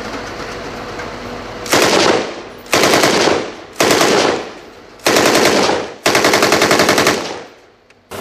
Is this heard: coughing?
no